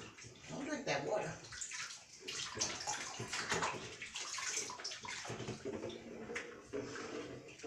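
Water sloshing and splashing in a bathtub while a pit bull is being bathed, with steady, close splashing and someone speaking over it now and then.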